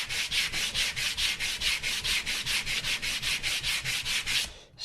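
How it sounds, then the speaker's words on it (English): A wooden guitar brace being sanded by hand gives about twenty even back-and-forth rasping strokes in a steady rhythm, loud and close, ending with a brief pause. "I'm just going to sand it a little bit here"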